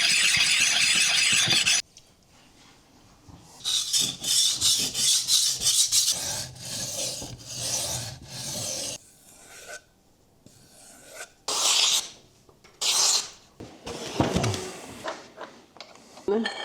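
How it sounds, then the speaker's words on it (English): Knives used for processing sheep meat are sharpened with repeated rasping strokes, steady scraping bursts in an irregular rhythm, close and fairly loud, with quieter gaps between. "I need to sharpen the knives we used yesterday"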